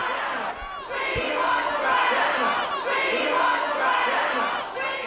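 A rowdy crowd of protesting power and rail workers outside council chambers, many voices chanting and shouting together in steady rising and falling waves, loud and dense, with a brief knock or two under the din.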